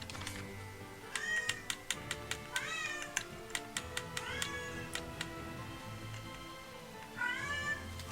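A house cat meows repeatedly, several drawn-out calls spaced across the stretch, close to the mic, while sharp keyboard-like clicks tap steadily in the background.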